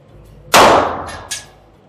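A single loud, sharp shot from a Glock handgun, followed by a quick metallic clang as it rings out and a second fainter impact a moment later, with no voices.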